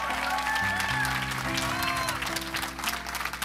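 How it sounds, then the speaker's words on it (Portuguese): A church congregation claps during a Christmas service with a choir, warm sustained applause mixed with organ-like tones and a voice speaking beneath. "Você pode aplaudir o Senhor Jesus?"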